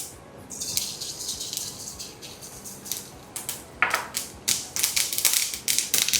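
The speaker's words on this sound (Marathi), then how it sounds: "मोहरी छान फुटल्यावर तीळ" Mustard seeds and sesame seeds splutter and pop in a little hot oil for a wheat-methi muthiya tempering, a dense crackle that starts quietly and turns sharper and louder in the last few seconds, with no voice over it.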